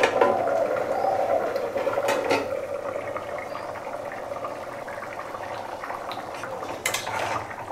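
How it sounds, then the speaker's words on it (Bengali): A metal lid clatters onto a pot of pork curry cooked without oil, a couple of sharp clinks near the start, followed by a low, steady kitchen hiss. "তো এই লেগে এখন ঢেকে রাখতেছি যাতে মাংসটা ভালোভাবে সিদ্ধ হয়"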